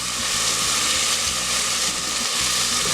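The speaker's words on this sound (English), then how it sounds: "add a can of tomato. Be careful because the tomato will make it. I'm going to go ahead and fry it with it a little bit." Fideo noodles frying in a pan with a can of tomato just added, a steady close sizzle and hiss running continuously with faint stirring underneath.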